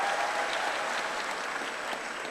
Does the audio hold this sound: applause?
yes